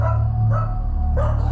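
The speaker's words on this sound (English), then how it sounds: "my dog started barking." A pet dog barking inside a house: a few sharp, close barks in quick succession over a steady low hum.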